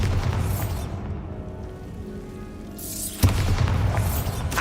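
A deep boom from the Bombarda explosion spell in a Harry Potter video game, a swelling rumble ending in a sharp burst and crackling debris, loud and close with no talking.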